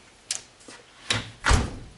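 A newly installed door in a home garage is opened or closed, giving a few separate knocks and rattles that build to a louder final thud, close by with no talking.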